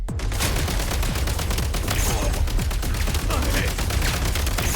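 Dense video-game gunfire during a shooter match, with rapid overlapping shots and bursts crackling continuously at close range for the whole stretch, loud and unbroken, with a voice faintly present underneath.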